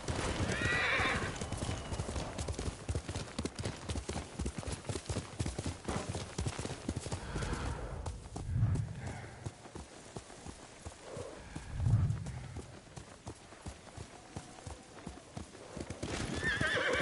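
Horse hooves clip-clop steadily with a couple of whinnies rising above the trotting, fairly close, against a busy background in the video game Ghost of Tsushima.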